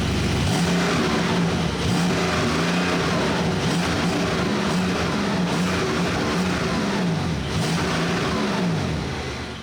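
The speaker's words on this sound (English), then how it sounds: "this car has the sport exhaust that opens things up, makes it sound especially good" A 2025 Porsche 911 GTS hybrid with the sport exhaust open produces a loud, continuous engine roar, with the revs rising and falling several times across the clip; no talking.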